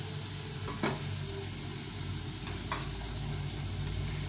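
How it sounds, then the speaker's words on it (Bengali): Potatoes fry steadily in a pan, a continuous close sizzle with a few brief stirring clicks, no voices. "একদম সুন্দরভাবে ভেজে নিয়েছি আলুগুলো"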